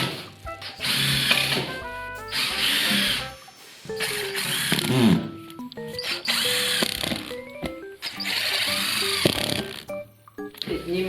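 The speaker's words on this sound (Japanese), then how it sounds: "合板を 40mm のビスで留めていきたいと思います。" A power driver sinking 40mm screws into plywood floor panels over joists, several bursts of whirring drilling separated by short pauses, with some handling noise between.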